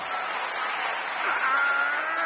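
Steady crowd applause for the winner of the Buzz! quiz video game, a thin, bright wash of clapping heard as game audio at moderate level, with a faint cheer swelling near the end.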